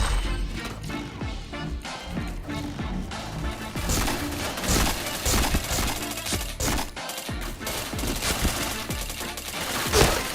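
Dense, continuous gunfire in the PointBlank shooter game, loud overlapping bursts and rapid automatic shots layered with impact crashes throughout, with faint background voices.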